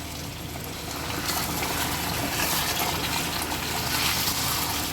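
Hot water pouring steadily into a pan of village-style black chicken curry, a continuous gushing, splashing wash that swells slightly after the first second and carries on close and loud with no voices.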